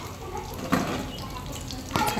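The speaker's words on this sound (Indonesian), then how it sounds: "Tapi minyaknya ini sering muncrat keluar" Fish frying in hot oil in a pan, a steady close sizzle with sharper pops of splattering oil, a louder burst near the end.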